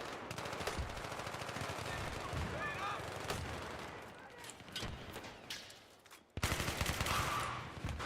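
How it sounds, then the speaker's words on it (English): RPG rocket streaking past in a first-person shooter amid rapid gunfire, rattling bursts that ease off before a sudden loud blast of noise near the end. "Whoa, RPG just flew by"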